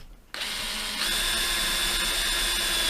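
A DeWalt Atomic DCD709 combi drill whirs steadily at high speed after a short quiet start, its motor pitch stepping up slightly about a second in and holding loud and even.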